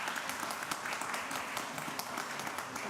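Dense applause from a church congregation, a continuous wash of many hands clapping at moderate distance, with no one speaking over it.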